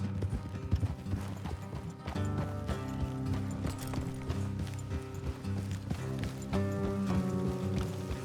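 Steady clip-clop of galloping horse hooves in Red Dead Redemption 2 runs throughout, layered over a droning musical score with rattling, mechanical textures.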